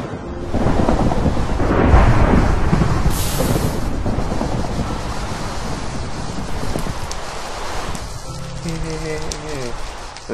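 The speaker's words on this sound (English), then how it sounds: "it's raining." Heavy Minecraft rain pours steadily with a deep rumble of thunder, and a musical tone comes in near the end.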